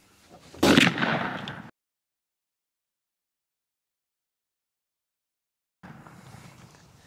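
A single loud shotgun blast from a Stevens 301 turkey shotgun firing Apex TSS shot, close and sharp with a short ringing tail, then silence before faint noise returns.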